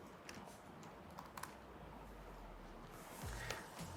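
Computer keyboard keys tap in short irregular bursts while a task title is entered in HubSpot, quiet clicks clustered near the start and again toward the end over low background hum.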